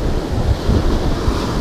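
Wind roars into a microphone on a beach at Kaikoura, a dense continuous low rumble mixed with surf, loud and unbroken with no voices.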